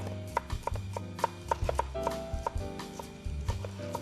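A knife slices garlic on a cutting board for a quick cucumber kimchi, giving a steady run of crisp, evenly spaced taps close up with no talking.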